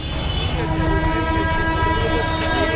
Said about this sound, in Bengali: ওই শোনা যাচ্ছে লোকাল ট্রেনের আওয়াজ